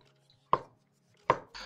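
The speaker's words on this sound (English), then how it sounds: "We're going to just roughly chop up these veggies." A knife chops through a courgette on a board, two crisp, close thuds about three-quarters of a second apart, then the start of a third, with quiet gaps between.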